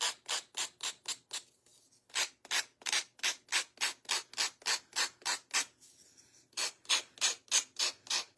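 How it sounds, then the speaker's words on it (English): Hand sanding of small wooden quilt block pieces for a woven star block, a steady run of rhythmic scraping strokes close by, broken by two short pauses, with no talk. "And we'll sand our other pieces."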